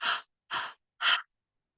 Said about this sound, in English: So we're breathing in and out through the mouth